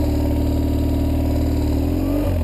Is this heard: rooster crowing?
no